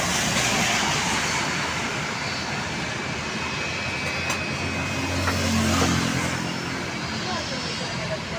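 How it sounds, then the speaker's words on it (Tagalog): A Philippine Airlines airplane takes off, its engine roar a steady, loud, broad rumble that fills the whole stretch and swells slightly toward the end. "Dami aeroplano Philippine Airlines sunod-sunod."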